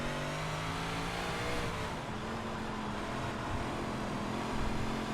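A dirt 358 modified race car in iRacing revs hard and steadily under heavy throttle, a loud continuous engine drone with rising and falling pitch and no talk over it.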